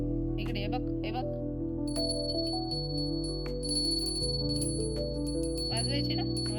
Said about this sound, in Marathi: चला घंटी वाजवा आपण.